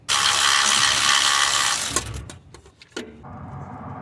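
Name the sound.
ratchet wrench turning a 13mm bolt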